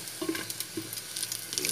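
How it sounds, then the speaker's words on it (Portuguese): Garlic browning in oil at the bottom of a pot for a quick Bahian feijoada, giving a soft, steady sizzle with small crackling pops, close and fairly quiet, with no talking. "Eu botei o alho aqui logo para dar uma douradinha."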